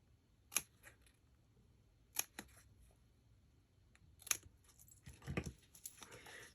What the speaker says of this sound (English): I'm just going to cut into those